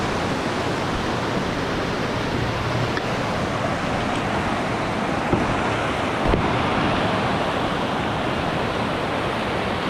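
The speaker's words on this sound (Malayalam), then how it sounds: "ഫസ്റ്റ് നമ്മൾ വന്നപ്പോൾ കണ്ട വെള്ളച്ചാട്ടമാണ്" A waterfall roars steadily at close range, a dense, unbroken wash of rushing water that stays loud and even throughout, with no voices over it.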